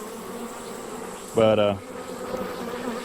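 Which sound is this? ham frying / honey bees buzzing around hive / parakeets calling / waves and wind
honey bees buzzing around hive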